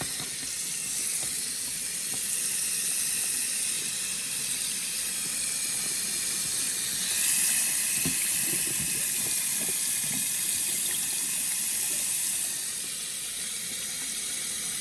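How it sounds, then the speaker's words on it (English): A tap runs steadily, splashing as a pH probe is rinsed under it, a constant hissing stream with slight shifts in flow and no talking. "I'm just washing my pros that we just used."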